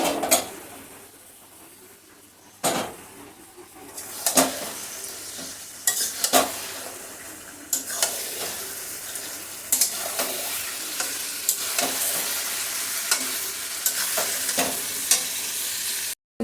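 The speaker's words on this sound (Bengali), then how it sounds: "সম্পূর্ণটা এখন ঢেলে দিচ্ছি। গ্যাসের হিটটাকে বাড়িয়ে কষিয়ে নেব।" Lemon-and-salt marinated chicken is stir-fried over raised gas heat in a pot for dum biryani, with a constant sizzle broken by repeated loud spatula scrapes and clanks against the pot, close up, with no speech.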